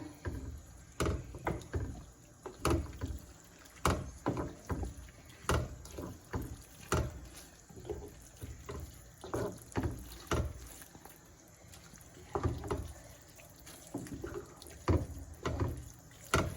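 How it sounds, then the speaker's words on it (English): Cooked pasta is stirred in a bowl, giving a repeating series of soft wet knocks and slippery squelches at a steady rhythm, quiet and close, with no voice. "we're going to add all our pasta to our bowl. And we're going to start stirring it"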